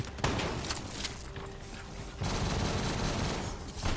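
Gunfire in Call of Duty: Black Ops III, a run of sharp shots and a sustained crackling volley at moderate distance, broken by a short gap, with battle ambience throughout.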